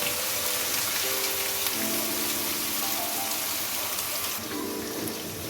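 Onions frying in oil with garlic ginger paste for a chicken kofta curry give a steady, dense sizzle and crackle that holds close and even throughout, with no talking.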